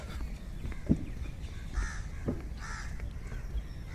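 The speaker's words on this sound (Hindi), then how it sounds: "ये देखिए, तोते हैं जो उन्होंने फिलहाल अपना अड्डा बना रखा है इसे" Birds calling around the old Purana Qila fort in Delhi, identified as parrots roosting on the carved stonework; a few sharp harsh calls ring out at a moderate distance over steady outdoor ambience, with no talking.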